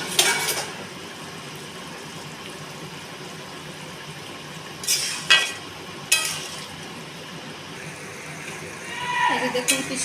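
Fish slid into a pot of simmering curry with okra, giving a couple of brief splashy thumps and clinks amid a soft steady bubbling hiss, with a livelier burst of simmering toward the end.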